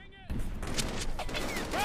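Gunfire from a scene of the war series The Pacific, set at Peleliu airfield, a dense burst of battle shots and explosions starting abruptly after a brief quiet tone and continuing loud to the end.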